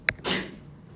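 A single sharp sneeze, a quick high burst followed by a breathy rush, close by in a quiet room.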